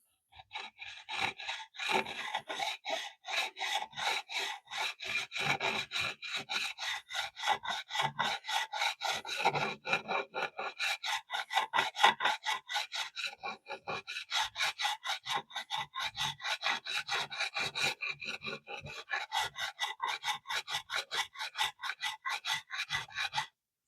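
Rapid back-and-forth rasping of sandpaper on a wooden guitar neck, close and rhythmic, with steady strokes continuing throughout and occasional short pauses.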